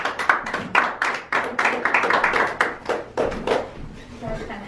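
Scattered clapping from a Toastmasters meeting audience, a brief run of uneven hand claps and taps that starts sparse and fades out over a few seconds, with some talking mixed in.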